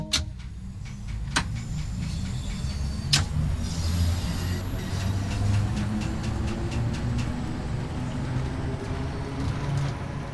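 A steady low electric motor hum with faint clicks, building gently as a London Underground Bakerloo line train starts rolling in the video game Train Sim World 2; no voices.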